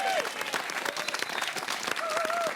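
Audience applause in a small village restaurant greeting the chef's second, Cyril Coutin: a steady, dense wash of clapping that holds for the whole stretch, with a voice faintly audible over it.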